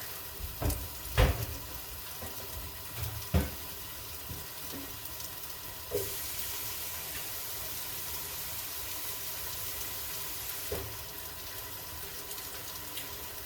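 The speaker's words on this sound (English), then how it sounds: "I'm going to go ahead and add the water" Water goes into a pot while making oyako donburi, a Japanese chicken and egg rice dish, as a quiet steady pour with a few sharp knocks and clinks of cookware against a faint kitchen background.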